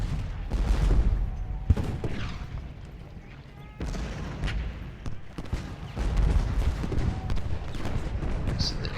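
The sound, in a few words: artillery and musket fire in a Gettysburg strategy video game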